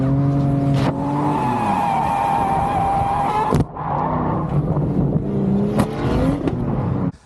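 A Ford BA Falcon drift car on a Calder Park drift day screeches in a long, loud tyre squeal over its engine. A sudden sharp bang cuts the sound off, then squealing and engine noise pick up again.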